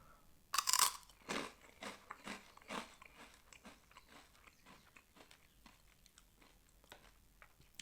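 Soy sauce rice puff cracker snack crunched in the mouth, one loud bite followed by a series of close, rhythmic crunchy chews that gradually fade.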